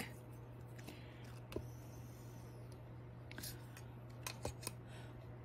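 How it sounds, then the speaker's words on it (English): Excess polymer clay is cut away with a few faint, close snips and clicks at a workbench, under a steady low hum. "Let me cut the excess away."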